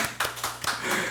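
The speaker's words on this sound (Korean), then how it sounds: "박수 한번 쳐주세요." Church congregation clapping together during a sermon, a short burst of several rhythmic hand claps, fairly close and loud.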